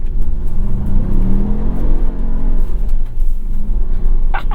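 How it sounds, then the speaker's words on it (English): A Ford Maverick or Bronco truck engine idles and revs with a rumbling, fluctuating drone, close by and loud, as it readies to spin its tires. "Give me a little space so I can spin the tires."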